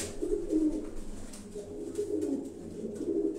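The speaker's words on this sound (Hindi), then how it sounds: "मोस्टली कबूतर जो है ये सियालकोटी कबूतर हैं" Sialkoti pigeons coo softly and repeatedly in a low, throaty rhythm, their overlapping calls forming a steady murmur over faint background hiss.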